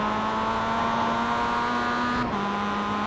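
A Mazda MX5 on the Circuit de Ledenon in the iRacing sim, its engine holding a steady loud drone that climbs in pitch, then drops briefly as it shifts up to second gear, with no talk over it.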